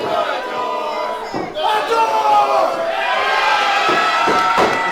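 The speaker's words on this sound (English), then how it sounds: "This crowd saying they adore Fox Valentine" Wrestling crowd at a lucha extrema event chanting together loudly, a dense roar of many voices with rhythmic swells throughout.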